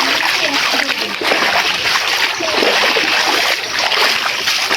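Floodwater rushes and splashes over a flooded village road, producing a loud, continuous wash of water that fills the whole stretch without a break.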